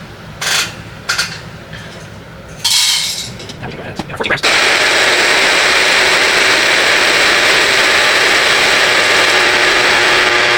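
A coffee grinder set to 15 is switched on and runs with a loud, steady whirring grind for about six seconds after several short bursts of handling noise and brief talk.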